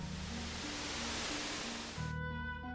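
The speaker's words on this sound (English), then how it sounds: "So now what we're going to do is drain the water" Water draining away in a cave in Final Fantasy VI, a broad rushing wash that drops out after about two seconds as sustained tonal game music takes over.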